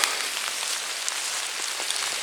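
Rain falls steadily through a forest, a dense even hiss of drops on leaves and ground with scattered nearer patters, continuous and fairly close, with no voices.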